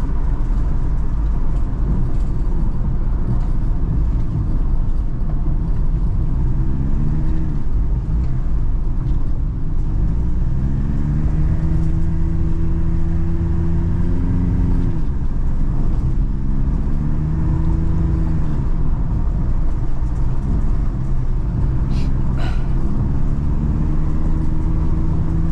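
A Suzuki DA64W van cruising on a six-lane highway while overtaking, its engine droning steadily and loud from inside the cabin, with rising and falling engine tones as it accelerates past traffic.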